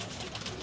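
A domestic pigeon on a rooftop loft gives a short, brief coo, close and fairly loud, with no voices over it.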